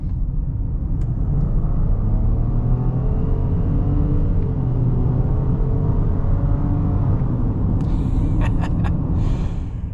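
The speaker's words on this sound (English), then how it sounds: "we'll see what we can do as far as the acceleration goes" A 2026 Nissan Rogue accelerating from about 20 mph, its engine rising in a steady, loud drone heard from inside the cabin, with road rumble underneath and a few faint clicks near the end.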